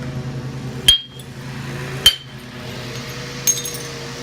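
Stone knapping on soft stone: three sharp, ringing strikes at irregular intervals, each a crisp clack with a short tail, close and loud against a quiet background with no talk.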